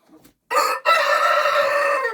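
A rooster crows loudly and close by, a single long call broken by a brief catch near the start.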